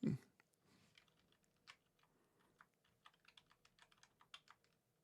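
Keystrokes on a computer keyboard, tapped as shortcut combinations, come in an irregular run of soft, close clicks with short pauses between bursts, with no voice over them.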